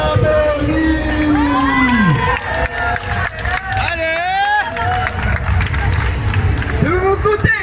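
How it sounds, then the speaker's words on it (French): A crowd at a battle final at Japan Expo cheers and applauds, filling the background beneath a loud announcer who speaks over the whole stretch. "je vous demanderai de faire un maximum d'applaudissements pour Amaury."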